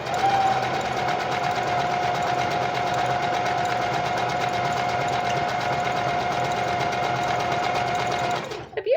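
A sewing machine stitches continuously for several seconds with a fast, even mechanical rattle and steady motor whine up close, then stops abruptly.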